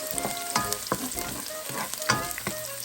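Garlic, onions and tomato stir-fry in a pan for a Filipino sardine dish, with a steady sizzle under repeated scraping and clattering strokes of a utensil against the pan.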